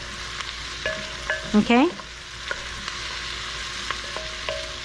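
Italian seasoning sizzling in a frying pan before pork chops in mushroom sauce, a soft steady crackle broken by a few brief louder stirring scrapes and swishes, with a short spoken word.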